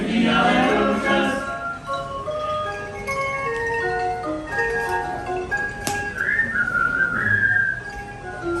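Crowd whistling a melody along with music at Magic Kingdom, clear tuneful whistled notes stepping up and down over a background of park chatter and clinks.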